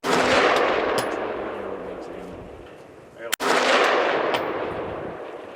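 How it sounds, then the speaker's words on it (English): Gunfire at an outdoor shooting range, two loud blasts about three seconds apart, each followed by a long rolling echo that slowly fades. "He's got somebody out there shooting it."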